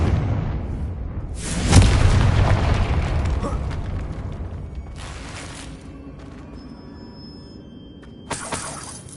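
A loud explosive blast from the Confringo spell in the Hogwarts Legacy video game, a sharp burst followed by a long rumbling decay, with another crack near the end.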